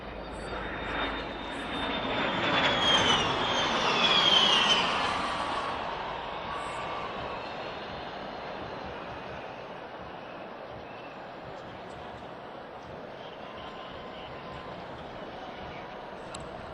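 A de Havilland Vampire jet sweeps past at an air force display in South Africa, its engine rising to a loud, whining roar around mid-pass, then fading into a distant rumble.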